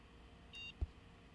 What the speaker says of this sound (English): I don't know what that beeping is. It's just part of the audio.